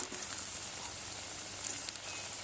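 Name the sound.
chickpea-flour onion fritters frying in oil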